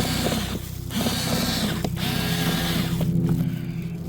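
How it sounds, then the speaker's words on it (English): Fasteners on a Citroen DS3 air filter housing are tightened by hand, giving a close run of small mechanical clicks and ratcheting ticks with short pauses between them. "Right now we're just tightening it back up."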